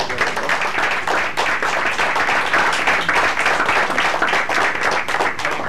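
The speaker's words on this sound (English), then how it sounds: "So Carrie Glenhue and Steve Weisberg need a round of applause" A school board meeting audience applauds two teachers named STEM master educators, with steady dense clapping from many hands lasting several seconds and no talk over it.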